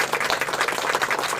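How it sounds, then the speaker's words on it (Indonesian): A classroom group claps together in sustained, dense applause that stays even and fairly close throughout, with no talking over it. "Kita beri tepuk tangan dulu."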